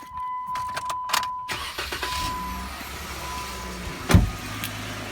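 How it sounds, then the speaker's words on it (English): A Jeep's engine cranks and catches once, a short loud burst after a door and a few mechanical clicks, then settles into a low steady idle with faint electrical whine. "as soon as I start the vehicle"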